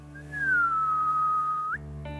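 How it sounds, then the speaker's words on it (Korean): A single clear whistled tone, sliding down slightly then holding steady for over a second before rising briefly at the end; close and alone. "휘파람을 부는데"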